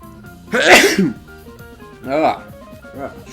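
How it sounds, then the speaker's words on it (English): A single wet, explosive sneeze bursts out up close, followed by a second smaller sneeze and a brief throat sound, all from one person. "That was a wet sneeze."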